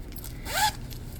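A small tassel zipper on a Star Wars–patterned project bag is pulled once, a quick rising zip lasting about a quarter second, close and alone.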